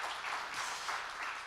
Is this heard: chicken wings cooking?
no